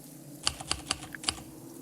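Keys struck on a typewriter in a haunted villa, five or six sharp clacks in an uneven rhythm, close and fairly quiet, with no voices.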